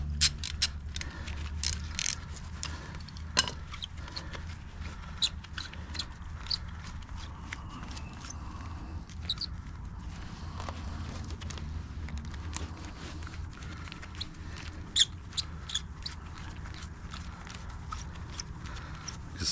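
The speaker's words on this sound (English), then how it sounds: "loosening up the nuts." A ratchet wrench loosening nuts on an ATV plow winch cable, giving repeated small clicking and ratcheting ticks in irregular runs over a steady low background hum, fairly quiet and with no talking.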